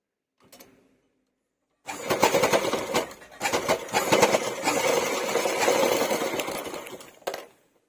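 Sewing machine stitching a zip into a pair of pants, a steady mechanical whirring run of several seconds with short pauses and restarts, close up and alone after a faint knock.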